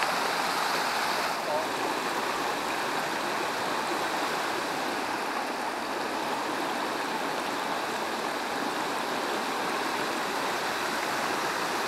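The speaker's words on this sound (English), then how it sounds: "stream is pretty loud here, so hopefully you can hear me" A loud mountain stream rushes steadily in a Western North Carolina valley near Boone and Blowing Rock, a dense, unbroken roar of flowing water close by that holds level for the whole stretch.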